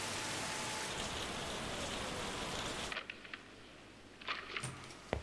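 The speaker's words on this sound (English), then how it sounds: "Rain." Steady heavy rain fills the first half of a Lost Judgment video game cutscene, then cuts abruptly to a quieter scene with faint scattered sounds.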